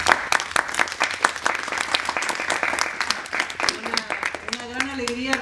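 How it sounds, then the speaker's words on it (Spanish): Welcome applause from the audience greets three poets at a university poetry reading series, dense clapping that fades as a voice begins speaking near the end. "un aplauso de bienvenida para ellos"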